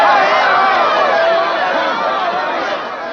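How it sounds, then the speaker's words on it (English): A crowd breaks into a cheer in a radio drama of It's a Wonderful Life, a dense wash of many voices shouting and chattering together at a steady loud level that fades slightly near the end. "The crowd breaks into a cheer"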